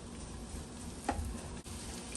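Mushrooms sizzling in a little olive oil in a pan: a faint, steady frying hiss with a soft clink partway through.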